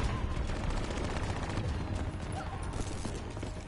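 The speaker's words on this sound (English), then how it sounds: "Oh no, grenades, and gunshots everywhere." Dense gunfire in Call of Duty: Black Ops 3 campaign crackles in rapid bursts, with scattered grenade explosion thumps mixed in, steady and moderately loud throughout.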